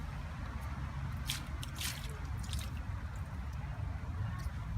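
Soft bubbling and fizzing in water as air escapes from submerged potting mix, small air bubbles popping and gurgling in irregular bursts, quiet and close.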